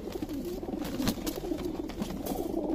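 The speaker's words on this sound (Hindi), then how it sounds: "ये लो जी उड़े हुए कबूतर हैं दोस्तों" Pigeons, including teddy-coloured birds, coo softly and continuously at close range with faint patter in the background and no voices.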